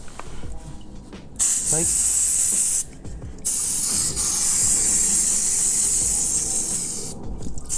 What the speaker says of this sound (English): So I have this brake cleaner right here. Just spray it with the